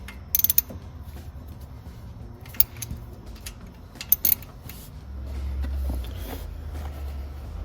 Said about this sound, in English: You can see I'm staying choked up on my ratchet.